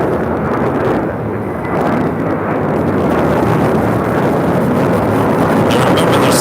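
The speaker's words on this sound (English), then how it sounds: "This is JetBlue Airways 2824 taking off to JFK on an A321." JetBlue Airbus A321 jet taking off from LAX, a loud continuous roar of engines at full thrust, steady throughout with a broad rushing rumble.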